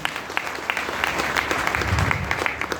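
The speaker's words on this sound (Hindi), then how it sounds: "तो प्लीज़ इनके लिए और संदेश सर के लिए एक बार जोरदार ताली।" A loud, sustained round of audience applause at a business event, dense clapping that swells slightly midway and carries on steadily to the end.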